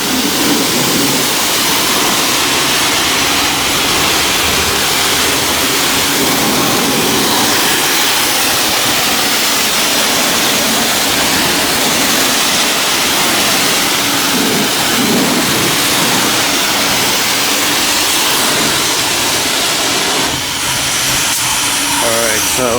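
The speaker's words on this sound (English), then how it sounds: "squeeze the trigger for the high pressure water, just like that." At a manual self-service car wash bay, a high-pressure water wand blasts continuously, a loud close hissing rush of spray against the car that shifts in tone as it moves, with a voice talking over it.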